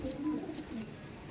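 A female Old Line Madrasi pigeon gives a single soft, low coo, close and brief against quiet background noise.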